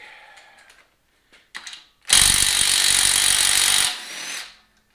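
A power tool, likely a drill or impact driver, spins out an oil pump pickup bolt on an LS engine: a few faint clicks and handling noises, then a loud sustained whir of about two seconds that winds down.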